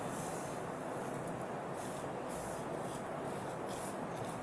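Vermicelli frying in ghee gives a steady, even hiss that is quiet and continuous, with soft rustling swells as it is stirred, and no voices.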